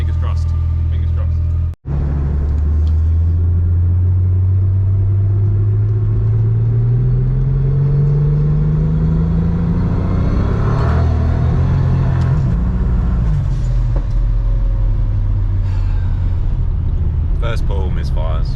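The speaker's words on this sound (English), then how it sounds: "I want to do 6 pulls, no misfires. Under heavy load." A stock BMW N54 twin-turbo engine running high boost pulls hard under heavy load on a test drive, its loud droning rumble climbing steadily in pitch and dropping back, heard from inside the car amid road noise.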